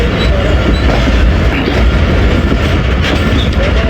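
A train runs past at a looping crossing on the Rehman Baba Express route, a loud close rumble of wheels with rhythmic clatter that keeps steady the whole time.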